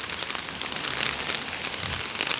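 Rain falls on a garden of dead crops in a steady, close hiss of drops spattering on leaves and ground, an even texture with no talking over it.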